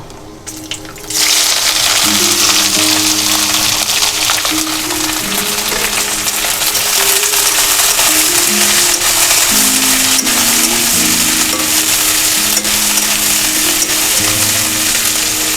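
Two large chopped onions hit hot mustard oil for a chicken tehari, setting off a loud, steady sizzle that starts abruptly and holds under soft background music, with no one talking.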